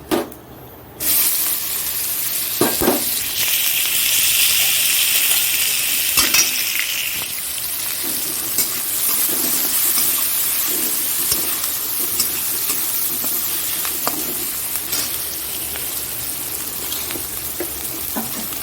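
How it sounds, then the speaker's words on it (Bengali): An egg fries in hot oil with cumin seeds, a steady close sizzle and spatter with scattered light clinks of a utensil against the pan, lasting throughout after a brief quiet start, no talking. "ডিমটা ভেজে নিই একটু জিরে দিয়ে দিলাম"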